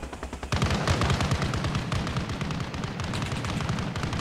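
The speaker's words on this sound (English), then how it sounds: "BTR is opening fire from Penance Pass" In a video game, a BTR armored vehicle opens fire: a dense, loud, continuous burst of heavy gunfire with booming impacts, beginning abruptly after a quieter moment and carrying on without pause.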